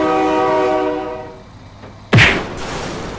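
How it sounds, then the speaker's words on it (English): Loud, steady multi-tone train horn in the BeamNG Drive driving game, sounding alone for about two seconds before it cuts off abruptly into a sharp crash-like thud and rumbling noise. "Oh my God, train!"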